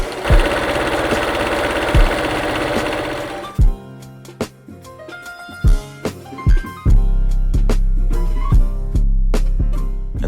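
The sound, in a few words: overlocker sewing the seam of a beanie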